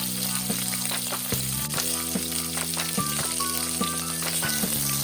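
Prawns sear in oil in a hot wok, giving a steady close sizzle with small pops and occasional clinks and scrapes of a utensil, no talking.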